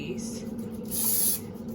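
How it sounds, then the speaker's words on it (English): A short hissing spray of oil over the tops of homemade bread dough, one burst of about half a second, close and clear amid faint kitchen background. "What I'm gonna do is spray the top of these."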